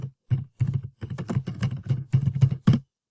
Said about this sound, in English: we're going to type total minutes